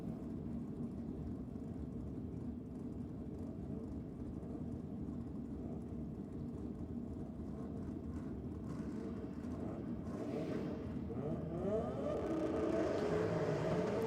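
A drag racing car launches down the strip at Sydney Dragway during a NSW Championship round, with a broad engine roar that swells and builds louder toward the end, heard from a distance.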